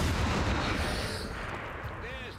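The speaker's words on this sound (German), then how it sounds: "weil ich diese Waffe aus dem zweiten Add-on einfach liebe, just diese Pistole, zeige ich sie euch einfach nochmal." A pistol from the XCOM 2 add-on fires in the video game, a loud, heavy booming shot with a rumbling tail that decays over a couple of seconds, close and dominant.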